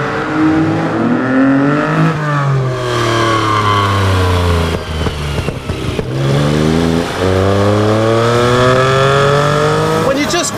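A 1974 Lancia Stratos HF Stradale's 2.4-litre Dino V6 revs hard and close, climbing through the gears in rising sweeps, dropping back briefly, then winding up again with a loud, rasping mid-range howl.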